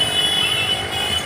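Motorcycles pass close by on a busy street, a loud continuous engine roar that holds steady for about a second without any pause.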